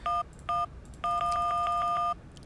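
A phone number is dialed in the video game Syberia: two separate keypad tones, then a quick run of about six more dialing beeps, clean and distinct over faint background hiss.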